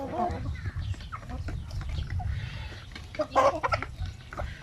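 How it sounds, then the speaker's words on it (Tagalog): Basilan native chickens clucking nearby in a small flock, repeated short clucks over a low rumbling background, with a voice speaking briefly among them. "So, ito yung ating mga basilan."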